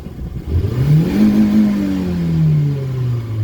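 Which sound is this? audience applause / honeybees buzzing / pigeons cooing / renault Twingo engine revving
renault Twingo engine revving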